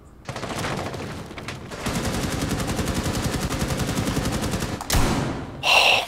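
Rapid gunfire in Rainbow Six Siege, a dense burst of close shots lasting several seconds, then a sharp final blast and a brief ringing tail.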